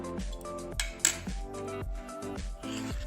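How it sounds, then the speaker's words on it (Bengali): A batter of semolina and flour with chopped chili and coriander being mixed in a bowl, a close, steady run of rhythmic clinks and knocks as a spoon beats against the dish, no talk. "এবার এই মিশ্রণটা আমি খুব ভালো করে মিশিয়ে নেব"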